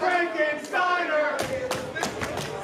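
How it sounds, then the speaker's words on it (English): A wrestling crowd at an IMPACT X-Division title match between Josh Alexander and Mike Outlaw chants rhythmically for a Frankensteiner, with voices rising together and a few sharp claps or thuds keeping time. "Some of the crowd calling for the Frankensteiner."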